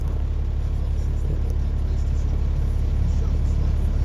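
Road traffic rumbles past a stop-sign intersection in Canada, a steady low drone of cars heard from inside a vehicle, continuous with no clear gaps.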